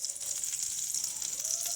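Green chilli paste, ginger paste, turmeric and salt sizzle steadily in a pan with fried pointed gourd, a close, continuous frying hiss with faint stirring scrapes and no talk.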